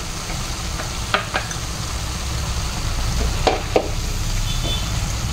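Milk and sugar cooking together in a pan for carrot halwa, a steady low sizzle and bubbling broken by a few sharp stirring scrapes, close and alone.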